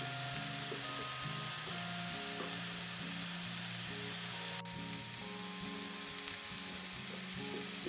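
A venison burger sizzles steadily in a hot pan as it is flipped, a continuous close frying hiss with a brief clatter partway through and no talking.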